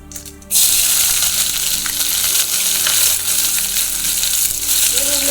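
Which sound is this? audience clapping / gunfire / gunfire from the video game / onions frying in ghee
onions frying in ghee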